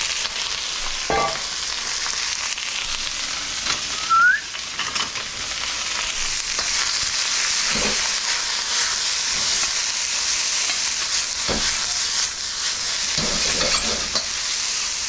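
Vegetables stir-frying in a preheated, oiled hot wok make a steady, loud sizzle with scraping and tossing noises from stirring throughout, and no talking.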